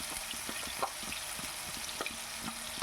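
Onion paste frying in a pan gives a steady, moderate sizzling hiss, sprinkled with small pops and crackles throughout.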